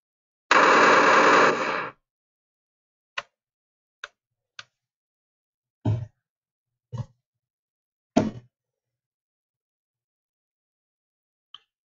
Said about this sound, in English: So now it should do oh yeah, machine gun, oh yeah.